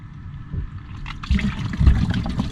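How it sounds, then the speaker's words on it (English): Water pours into a container of garbanzo beans, a close gurgling and splashing that grows fuller and louder as it fills. "Then we're gonna fill with water."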